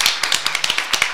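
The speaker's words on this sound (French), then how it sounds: "Moi, je propose qu'on l'applaudisse." A small audience at a talk on women's film history claps in a brief, sparse patter of close, crisp handclaps, no voices over it.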